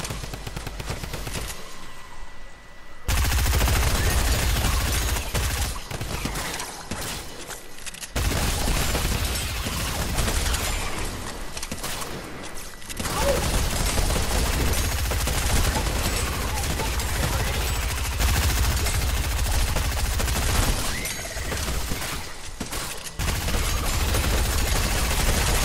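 Automatic gunfire in Fortnite rattles in long, loud bursts broken by short pauses, with a person talking over parts of the shooting.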